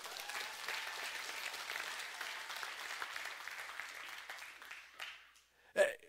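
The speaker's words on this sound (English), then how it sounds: "Come on, give him a hand clap." Congregation applauding at a church sermon, a steady mid-level wash of clapping that thins out toward the end, followed by a brief louder burst near the close.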